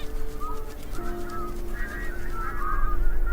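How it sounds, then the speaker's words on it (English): Bar-headed geese honk on shallow water in the Zhegu Grassland, a flock giving overlapping nasal calls, some near and some farther off, over a low steady background. "The bar-headed geese occupy the shallow waters in the heart of the grassland."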